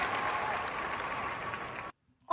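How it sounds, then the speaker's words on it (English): Applause from the crowd at a Halifax Thunderbirds lacrosse game, a dense and steady roar of clapping that carries on for close to two seconds and then cuts off abruptly into silence. "That applause took a while."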